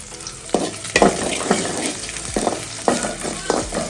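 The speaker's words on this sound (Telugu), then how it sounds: "నాకు పచ్చిమిర్చి బాగా డీప్ ఫ్రై అయితేనే నచ్చుతుంది అనమాట" Green chillies deep-fry in hot oil over a high flame, a loud, close, steady sizzle broken by stirring scrapes and bursts of spattering.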